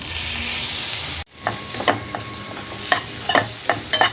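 Two small tomatoes sauté in a hot pan, first a steady sizzle that cuts off abruptly, then quieter frying under repeated scraping and stirring strokes of a utensil, close up and without talk.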